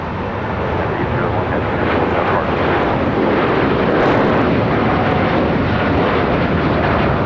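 A United Airlines Boeing 787-9 Dreamliner begins its takeoff roll on runway 25 right at LAX, a loud, close, broadband engine roar that holds steady and builds slightly over several seconds.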